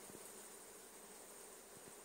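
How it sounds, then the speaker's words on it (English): Many bees buzz in a dense, steady drone around autumn ivy flowers outdoors, a faint continuous hum with no voices. "there's a lot of bees here."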